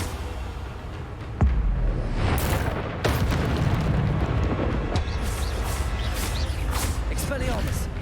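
Spell blasts from Expelliarmus in the video game Hogwarts Legacy, a few sharp booming bursts over a steady wash of loud game noise.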